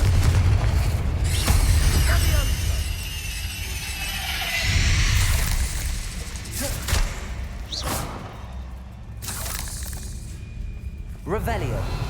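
Confringo fire spells are cast in Hogwarts Legacy, landing as a series of booming explosive thuds over continuous game music and ambience, with a voice speaking during the action.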